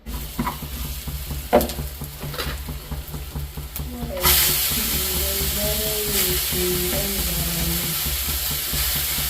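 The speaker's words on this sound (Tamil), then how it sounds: "அடுத்ததாக வந்து இப்போ கீரை வர வறுக்கப்படும்" Spinach fritters frying in a pan crackle and hiss after a few clanks and stirring knocks, then settle into a steady, loud sizzle, with faint voices underneath.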